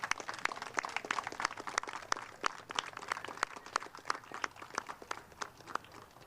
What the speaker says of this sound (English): huge round of applause goes to none other than Chester Fawkes